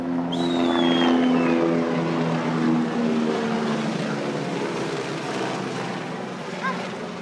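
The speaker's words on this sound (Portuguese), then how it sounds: "Olha lá o helicóptero." A helicopter's rotor drone hums steadily overhead, loud and continuous with low harmonic bands, while voices chatter faintly beneath.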